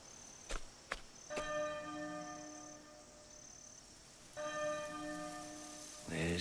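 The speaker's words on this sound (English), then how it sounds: "There's the bell again." A church bell in the Octopath Traveler 2 video game tolls in two separate rings, each a clear resonant strike with a long ringing decay, preceded by a few sharp clicks.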